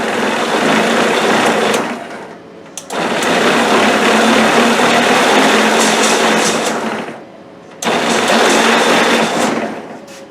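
A Power Wheels ride-on toy with a DeWalt battery upgrade runs its electric motor under throttle, a loud, steady high-pitched whir that drops away twice briefly and then picks back up.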